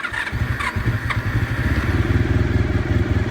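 A 1990 Honda VFR400R NC30 motorcycle engine catches on slight choke and idles with a steady, throbbing low putter, loud and close, a few clicks at the start.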